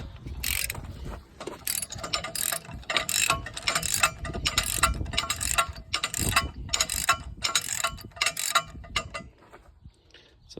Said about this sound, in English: My ratchet's falling apart.